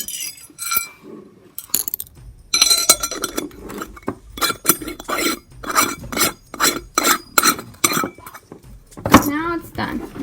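A lid is fitted onto a small DIY potion jar and twisted tight. The result is a rapid run of close glassy clinks and scraping rattles, with a voice speaking at the start and end.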